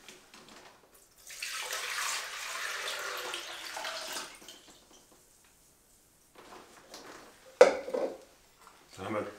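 One litre of water poured into a container for homemade hemp milk, a steady close splashing pour lasting a few seconds, followed by clinks and knocks of kitchen dishes.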